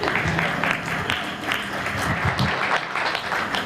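An audience breaks into applause after a line in a speech, a dense steady wash of clapping from many hands, moderately loud, with a voice faintly audible underneath.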